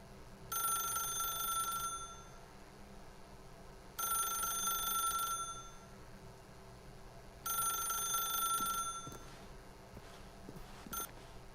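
A telephone rings in The Stanley Parable video game, three long bursts of ringing, each about one and a half seconds, with quiet gaps between them, then a few faint clicks afterward.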